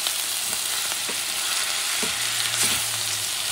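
Ground beef sprinkled with chopped rosemary fries in a pan for spicy dirty rice, a steady loud sizzle broken by several soft scraping knocks of stirring, with no voices.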